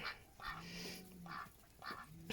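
Drakes on a farm quack in a series of about four rasping calls spaced roughly half a second apart, moderately near, with light outdoor background.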